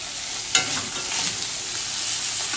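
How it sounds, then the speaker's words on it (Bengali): Fish frying in hot oil gives a dense, steady sizzle close by, with one brief clink of a utensil near the start. "আমার মাছ ভাজাটা কমপ্লিট হয়ে গেছে"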